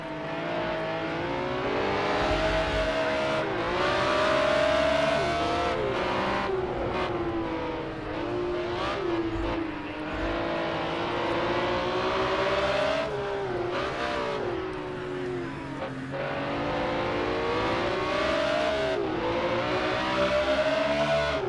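A BMW M1 race car engine in Project CARS 2 drones loudly and continuously, climbing in pitch through the gears, dipping on each shift and revving back up again, with nothing else over it.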